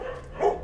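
A puppy abandoned and tied to a tree at a dog shelter gives one short, high yelp or whimpering bark over steady background noise.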